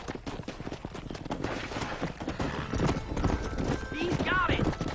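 Hooves clip-clop steadily at a gallop across a Red Dead Redemption cattle drive, with a horse whinnying near the end while people shout and talk over the hoofbeats throughout.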